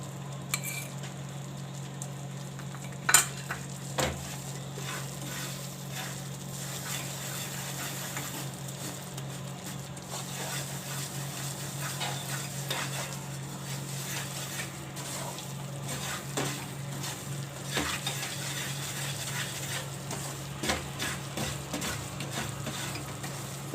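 Rava stirred in a pan with ghee gives a quiet, continuous sizzle under steady scraping strokes of a spoon, with a few metallic taps against the pan, close and low in level, no speech.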